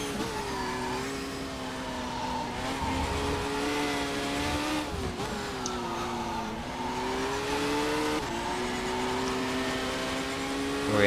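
A Seat touring car engine in the Race 07 racing game drones steadily at high revs throughout, its pitch rising and dipping with shifts and corners, with faint tyre squeal and no talk.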